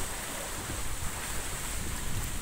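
Big sea waves after Typhoon Emong roar and wash steadily, loud and close, mixed with heavy wind buffeting the microphone.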